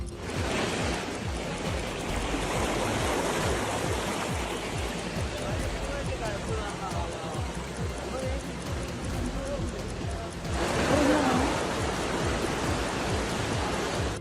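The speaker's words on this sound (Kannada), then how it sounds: "ಕೇರಳದ ಕೋಯಿಕೋಡ್ನಲ್ಲೂ ಮಳೆ ಅಬ್ಬರಿಸಿದೆ. ಮಳೆ ಅಬ್ಬರಕ್ಕೆ ಹಲವು ರಸ್ತೆಗಳು ಜಲಾವೃತವಾಗಿವೆ." Heavy monsoon rain pours steadily over flooded roads in Kozhikode, Kerala, a dense continuous hiss of falling water that swells louder near the end.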